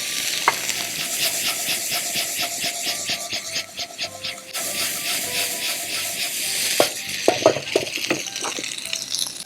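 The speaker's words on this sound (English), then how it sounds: "Fry that for like 10-20 seconds." Teaspoon of mixed spice powder frying in hot oil with rice, a steady close sizzle with repeated scraping stir strokes and a few sharp clinks of utensil on pan.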